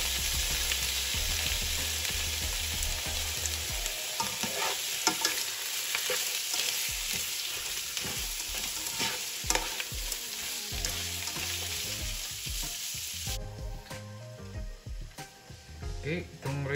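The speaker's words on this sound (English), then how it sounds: "to saute the shrimp first" Shrimp and onions sautéing in a hot pan give a loud, continuous sizzle and crackle, broken by the scrape of stirring, with someone speaking now and then above the frying.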